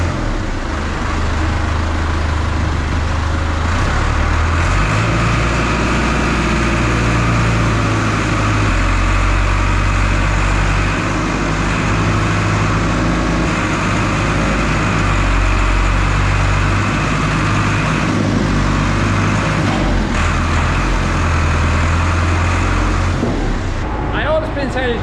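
Steady loud tractor engine drone with low rumbling tones while putting in silage on a dairy farm, running continuously and close throughout.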